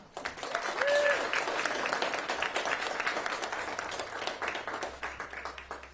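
Audience applause greets Milwaukee County Executive David Crowley at a morning event, a broad steady wash of clapping that swells near the start and holds at a fairly even level with a few whoops.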